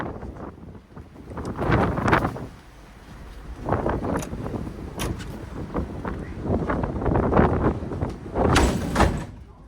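Strong wind on the outdoor deck of the Queen Mary 2 ship buffets the microphone in rumbling gusts, with occasional knocks and clatters, rising and falling throughout.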